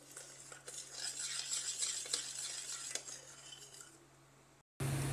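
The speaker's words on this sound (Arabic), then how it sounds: "هنحرك الين ما ايش تتجانس الزبدة مع السكر مرة كويس" A spoon scrapes and stirs butter and sugar together in a pot while making a warm winter dessert, a steady, close, continuous swishing that cuts off abruptly near the end before a short burst of different noise.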